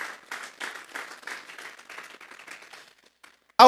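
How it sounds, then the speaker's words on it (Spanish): A church congregation applauds during a Sunday morning service, a broad wash of clapping that rises and gradually fades out over a few seconds, ending in near silence before a sudden loud burst at the very end. "Vamos a darle un fuerte aplauso pues al Señor esta mañana."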